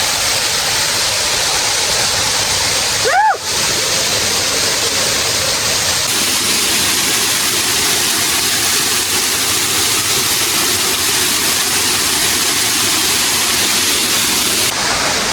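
A big waterfall roars loud and unbroken from close range, a dense wall of rushing water that fills the whole stretch, with one brief rising whistle near the start.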